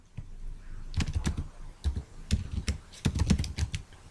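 Fingers typing code on a computer keyboard in short clustered bursts of crisp key clicks, close and clear with no talking.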